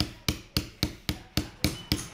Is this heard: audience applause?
no